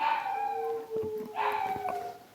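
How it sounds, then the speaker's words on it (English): Dogs howling and yelping in another room, muffled and moderately loud, with drawn-out howls rising and overlapping across the stretch. "My dogs are going off, as they tend to, in the other room."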